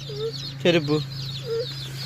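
Household chickens clucking nearby, a few short soft clucks and one louder squawking burst, heard over a steady low background hum.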